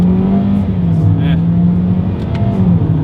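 A 2021 Toyota Corolla Hatchback in manual shift mode pulls hard from first gear, its engine drone climbing and stepping through simulated gear shifts, heard up close from inside the car with a voice over it.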